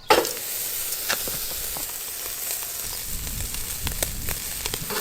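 A massive steak sizzles loudly the moment it lands in a hot pan, then settles into a steady, close frying hiss with scattered pops and crackles.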